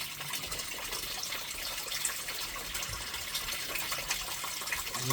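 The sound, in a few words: water washing gravel through a small gold sluice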